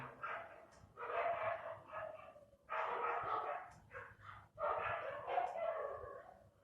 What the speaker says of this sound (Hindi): सॉरी यार, ये कुत्ते जो है ना